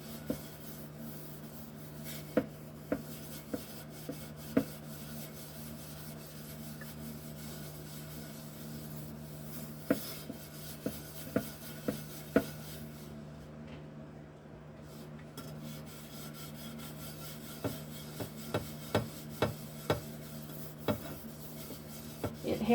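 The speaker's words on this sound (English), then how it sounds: "Get this burned on stuff off of this pan" A scrubber works burned-on residue off a pan in small circles, making a quiet, continuous rubbing rasp broken by frequent small scraping clicks, close by and without talk.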